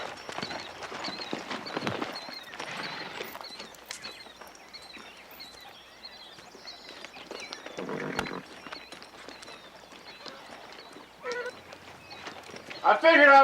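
Horse hooves clip-clop at a walk as a rider comes in on the Lonesome Dove range, faint and uneven under the surrounding sounds, with a voice speaking at points.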